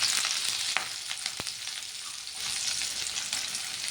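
Onions frying in hot oil for sambar, with a loud continuous sizzle and a couple of brief spatula knocks.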